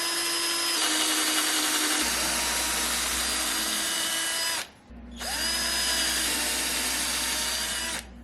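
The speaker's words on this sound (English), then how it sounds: "I'll go ahead and fasten in my other screws at the bottom." A power drill drives screws into an old wooden farmhouse door, a loud steady whine that winds up, runs for several seconds, cuts out briefly, then spins up again for another long stretch.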